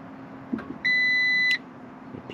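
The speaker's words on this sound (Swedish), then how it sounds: "Det piper igen. Det är bilen som piper, känns det som." A single sustained electronic car warning beep, clear and steady for under a second, over a quiet hum with faint clicks before and after.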